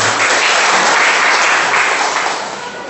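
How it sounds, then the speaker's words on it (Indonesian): Congregation applauding in a church service, a loud, continuous wash of many hands clapping that holds steady and then begins to fade slightly at the end, with no voices on top. "Beri tepuk tangan bagi Tuhan."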